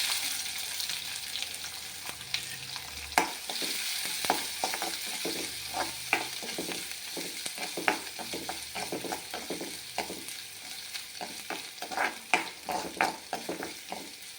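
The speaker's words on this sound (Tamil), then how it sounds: "இப்போ வெங்காயத்தை போட்டுக்கலாம்." Onions fry in oil with fennel seeds in a pan, a steady sizzle broken by regular close scraping strokes of a stirring spoon that quicken toward the end, moderately loud with no speech.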